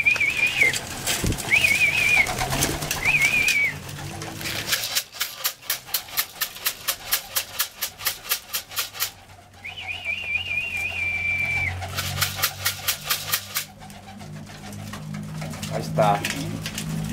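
Pigeons coo and call in repeated bursts at a loft during feeding, with a steady rhythmic flutter of wings or grain scattering in the middle and someone talking nearby.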